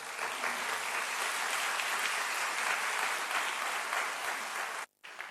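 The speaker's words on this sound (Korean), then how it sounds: "크게 환영의 박수 올려드리십시오" A church congregation at a Korean joint worship service claps in steady, full welcoming applause for a pastor coming up to preach, ending abruptly with a brief dropout near the end.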